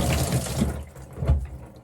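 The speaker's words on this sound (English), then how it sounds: "Clean it with water." A round brush is rinsed under a running tap at a sink in a fast-food kitchen during sanitation cleaning, with a steady close gush of water that briefly swells near the end.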